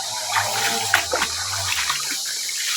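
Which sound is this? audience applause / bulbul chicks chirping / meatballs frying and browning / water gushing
water gushing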